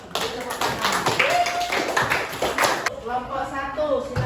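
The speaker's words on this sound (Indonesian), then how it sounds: "Tepuk tangan." A classroom of students claps hands together in a dense, loud burst of many overlapping slaps that abruptly cuts off partway through, followed by fainter scattered sounds and voices in the room.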